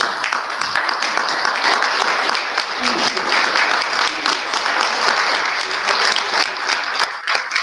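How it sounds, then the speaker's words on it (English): A banquet audience stands and applauds at a Lions district governor dinner, producing a loud, sustained wash of many hands clapping that does not let up, with crowd noise and voices mixed in. "Please stand and give him a round of applause."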